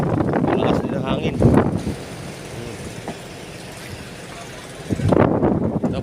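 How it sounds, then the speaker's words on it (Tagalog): Strong wind from Typhoon Aghon in Quezon province roars in a steady, heavy rush through the open air, loud and continuous, with a person talking over the gusts at the start and end. "Malakas din ang hangin."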